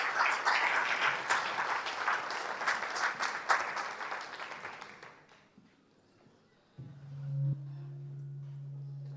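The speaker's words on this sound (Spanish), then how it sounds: "celebre y aplauda, hermano" Church congregation applauding during a Spanish-language sermon, sustained clapping for about five seconds that fades out, followed by a steady hum.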